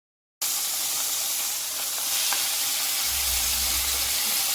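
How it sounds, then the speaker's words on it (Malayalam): A pot of water boiling with onion, salt, turmeric and chillies, a steady bubbling hiss that starts abruptly and continues evenly, with a low rumble joining toward the end. "ഉള്ളിയും ഉപ്പും മഞ്ഞൾപ്പൊടിയും കാന്താരിമുളകും ഒക്കെ ഒന്ന് വെള്ളത്തിൽ ഇങ്ങനെ തിളച്ച് മറിയുമ്പോൾ"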